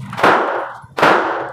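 Two loud, sharp gunshots about 0.8 seconds apart ring out close by at a shooting club during marksmanship training, each with a quick echoing decay.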